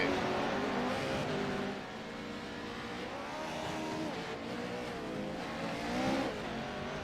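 Race cars at the finish of a feature race, engines droning and shifting pitch as they pass, a steady mid-distance roar with a brief dip and swell, no voices.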